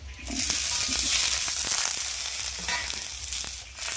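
Eggplant fries in oil in a kadai, a continuous close hissing sizzle with occasional faint stirring taps, steady in level throughout and with nobody speaking.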